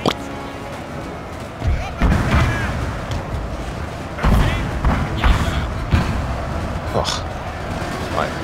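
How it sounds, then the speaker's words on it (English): Cannons firing canister shot in the Napoleonic battle game Napoleon: Total War, several heavy booming blasts spread through the battle, with a dense roar of combat beneath. "I think that might be one of the most devastating canister shots we've had this series so far"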